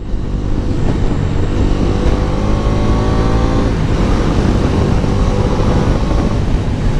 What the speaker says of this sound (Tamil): இந்த மோட்டார் சைக்கிளில் இன்ஜின் பிரேக் பண்ணி பார்ப்போம்.